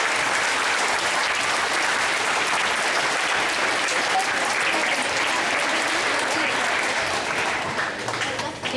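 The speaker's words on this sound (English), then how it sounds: "if you could give them a great big round of applause" A school audience at a Veterans Day gathering gives a big, sustained round of applause, dense and loud throughout, tapering slightly at the very end.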